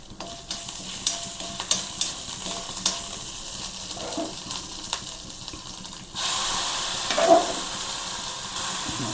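Food fries in a pan with a steady sizzle, stirred with scraping clicks; a louder, brighter hiss surges in partway through as more heat or ingredients hit the pan, with no talking.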